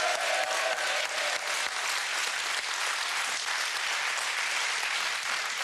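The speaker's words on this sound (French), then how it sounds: "Bravo, on peut les applaudir" TV game show studio audience applauds candidates after a correct answer, a dense, even burst of clapping held for several seconds, loud and close with no talking over it.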